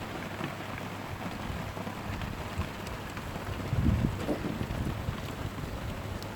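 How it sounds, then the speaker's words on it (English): Heavy rain in Scotland keeps up a steady, fairly soft hiss outdoors, with wind buffeting the microphone and a brief louder thump partway through. "It's really picking up the rain as well now."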